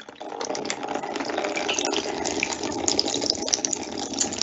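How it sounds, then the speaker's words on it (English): Water squirts steadily from holes drilled in a pipe, a continuous hissing, splashing gush at close range with no talk over it. "look at that water pressure flowing out"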